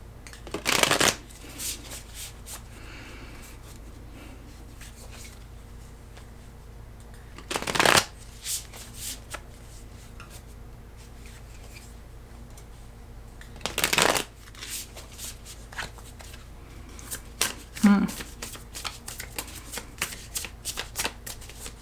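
Tarot cards being shuffled in several separate brisk riffling bursts, close and clear, with quiet pauses between them.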